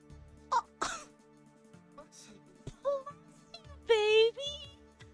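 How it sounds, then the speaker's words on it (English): A small sneeze from a pet named Cecil at a park, a brief sharp burst among soft throat sounds and quiet voices talking around it. "He fucking sneezed."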